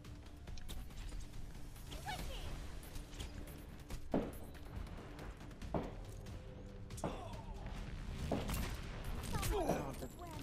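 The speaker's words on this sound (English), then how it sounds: "Fireworks are so loud." Fireworks bursting during an Overwatch match on the Numbani map, several sharp cracks spaced a few seconds apart over continuous game noise and faint chatter.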